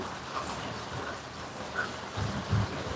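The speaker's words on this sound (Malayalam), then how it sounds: "ഇടി ശക്തമായ രീതിയിൽ" Steady summer rain in Kerala hisses throughout while low rumbles of thunder roll in faintly, growing a little heavier toward the end.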